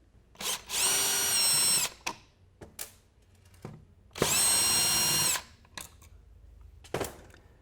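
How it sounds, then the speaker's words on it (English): Mounting screws are backed out of a wall switch with a cordless power drill, two sustained whirring runs of about a second each, close and loud, separated by clicks and handling noises. "You can remove the mounting screws."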